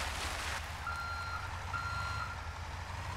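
A truck in GTA V sounding its reversing alarm, a steady series of evenly spaced electronic beeps over a constant low engine rumble, clear and close with no talking.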